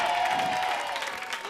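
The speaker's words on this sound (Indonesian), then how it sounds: "Tepuk tangannya." An audience applauds during a comedy variety show, a steady dense wash of clapping with faint crowd noise and a hint of a voice underneath, holding at an even level throughout.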